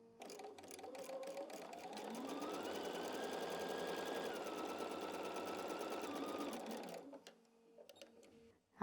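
A sewing machine stitches quilt block fabric pieces along a 1/4 inch seam guide, a steady close whirring run of about five seconds that stops abruptly, followed by brief quiet handling.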